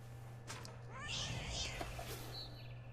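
A cat meows in the video game What Remains of Edith Finch, a drawn-out rising and falling mew over a constant low hum, with a few short chirpy sounds around it.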